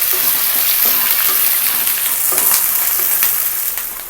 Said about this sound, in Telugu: ఒక 2 ఉల్లిపాయలు కట్ చేసి వేసుకోండి. మొత్తం బాగా వేగనివ్వాలి.